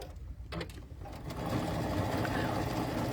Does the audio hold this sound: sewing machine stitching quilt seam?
yes